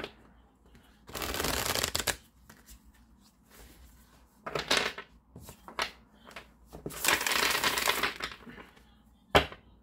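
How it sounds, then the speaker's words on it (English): A tarot deck is shuffled in several bursts, crisp riffling rustles separated by short pauses, with a sharp tap near the end. "I love shuffling this deck."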